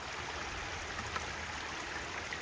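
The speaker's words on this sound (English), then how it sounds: "There's another little stream of water going into our pond." A small stream of rainwater trickling steadily into a pond during heavy rain, a faint, even wash of flowing water with no voices.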